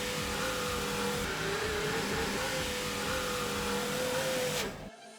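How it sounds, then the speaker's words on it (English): The rear power window motor of a BMW E39 5 Series hums steadily as it raises the glass with a new regulator. The whine is close and even, then stops with a soft thump as the window seats. "I check that the window goes all the way up."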